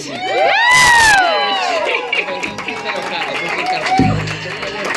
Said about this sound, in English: Oh, another round of applause for Kit.